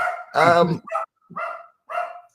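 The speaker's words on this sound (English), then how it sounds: "the dog." A dog, most likely a Corgi, gives one loud bark followed by three shorter yips spaced about half a second apart, close and clear, with no talk over it.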